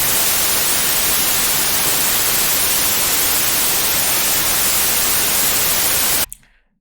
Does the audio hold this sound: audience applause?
no